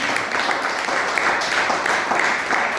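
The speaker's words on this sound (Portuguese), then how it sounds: "As palmas de volta do Senhor Jesus" A church congregation applauding after a prayer, steady broadband clapping with a rhythmic pulse, moderately loud and continuous, with a voice faintly underneath.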